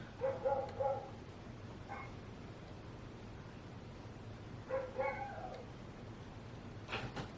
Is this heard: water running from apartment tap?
no